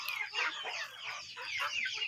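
Chicks peeping and chirping in a busy cluster inside a new coop, fairly quiet and continuous with overlapping high calls.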